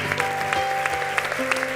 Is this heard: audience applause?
yes